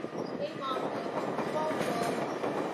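A train pulls away from Doncaster station, bound for York, Darlington, Durham and Newcastle, with a steady rumble and rolling wheel noise near the platform and faint squeals over the constant drone.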